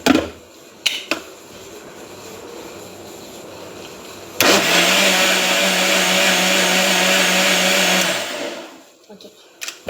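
An electric mixer blending cream switches on with a loud steady whir for about four seconds after quieter clattering and handling sounds, then winds down and stops.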